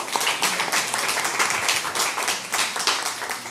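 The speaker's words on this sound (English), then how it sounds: "So big round of applause, everybody." Dense applause from a conference audience after a paper session at a GLPA planetarium conference, many hands clapping steadily and continuously in a large room, full and even throughout with no talk over it.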